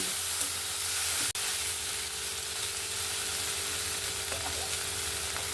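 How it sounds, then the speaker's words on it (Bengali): Potatoes and eggplant cooking without water in a covered pan give a steady, moderate sizzling hiss, with a brief clunk early on as the lid or utensil moves, and no voices. "আমি এবার ঢাকনাটা খুলে একবার নাড়াচাড়া করে নেব"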